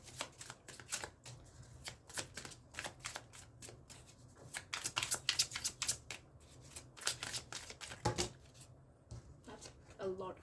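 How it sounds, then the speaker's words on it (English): Tarot cards shuffled by hand in repeated riffling bursts, close and crisp, with a voice speaking intermittently over them. "We're going to shuffle again."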